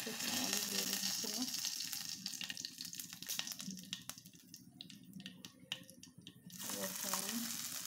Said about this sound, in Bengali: এখন আমি সরিষার তেল দিয়ে দিচ্ছি, এগুলা হালকা একটু ভেজে নেব